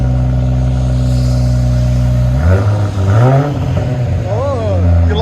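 Cabin view of a BMW X5 M40i with its 3.0L engine and aftermarket exhaust, heard as a steady idle drone that climbs into two loud revs and then a third blip, with people talking over it.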